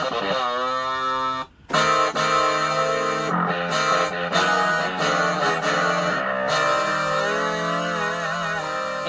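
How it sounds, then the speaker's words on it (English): A Yamaha PSR-48 home keyboard playing its distortion guitar voice, sustained buzzy, saturated chords and notes that ring loudly and continuously, with one brief gap near the start. "This was the distortion guitar,"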